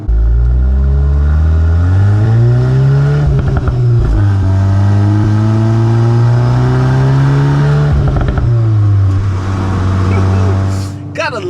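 Volkswagen MK8 Golf R engine revving up and holding a steady high drone, with rising pitch sweeps and brief throttle blips, loud and close throughout.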